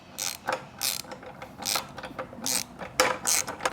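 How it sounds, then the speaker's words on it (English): A half-inch wrench, likely a ratcheting type, tightens a bolt and nut into wood, giving a series of close, crisp ratcheting clicks in short irregular bursts with brief pauses between strokes. "1/2 inch wrench back here for the nut, and a 1/2 inch for the tightener of the bolt."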